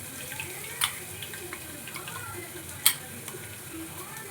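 Ginger garlic paste hits a hot pan for egg biryani, giving a soft steady sizzle with occasional sharp pops and clicks of stirring, fairly quiet and without talk.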